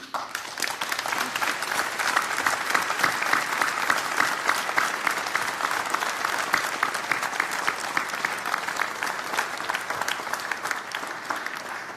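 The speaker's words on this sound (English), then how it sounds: "On doit applaudir." Delegates at a UN climate change conference applaud the election of the session's president, a broad, sustained roar of many hands clapping steadily in a large hall for the whole stretch.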